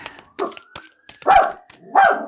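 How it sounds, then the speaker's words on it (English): A dog barks several times in short bursts, fairly close and loud, with a thin steady siren wail running underneath. "my dog decided to start barking at it"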